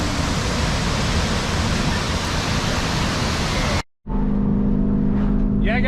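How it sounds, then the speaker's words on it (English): Strong waterfall in the Smoky Mountains, swollen after heavy rain, roaring as loud, steady broadband rushing water close by; a brief dropout, then the flow continues with faint voices in the background. "that waterfall's beautiful. A lot of rain lately, so it was really flowing"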